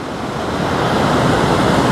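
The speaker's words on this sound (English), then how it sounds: "Nice, good sized water feature." Rushing stream water on the Appalachian Trail, a steady loud broadband roar of flowing water that holds constant throughout with no voices.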